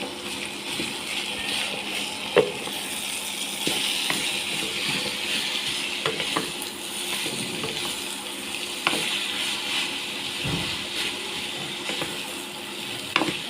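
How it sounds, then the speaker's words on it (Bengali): Food is stirred and mixed in a frying pan over a steady sizzle, with occasional scrapes and knocks from the utensil against the pan. "এই যে ভালো করে মিশিয়ে নিচ্ছি।"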